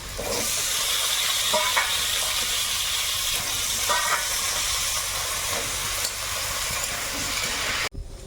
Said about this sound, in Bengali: ভালো করে একটু ভেজে নেব আলু